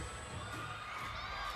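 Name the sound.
crowd cheering at a volleyball match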